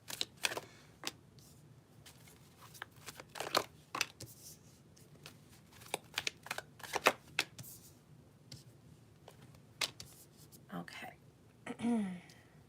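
Tarot cards are shuffled at close range in a quiet room for a fire-sign reading: soft irregular riffles, flicks and papery taps come in uneven bursts, with faint low voices or whispers now and then.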